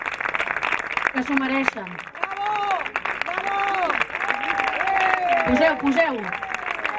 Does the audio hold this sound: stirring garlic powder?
no